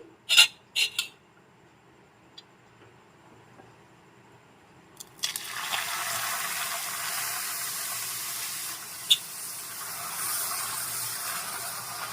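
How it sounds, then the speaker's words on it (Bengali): Milk goes by the ladleful into hot caramel in a pan for Bengali mishti doi. A few sharp clatters come first, then a sustained bubbling hiss rises and carries on with a brief spike. "এবার আমি এর মধ্যে দিয়ে দেব দুধ হাতায় করেই দিয়ে দিচ্ছি"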